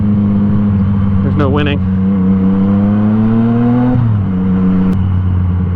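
Car driving past on a road among motorcycles, a loud steady engine drone with a rising whine that dips as it passes, while a rider talks briefly over it.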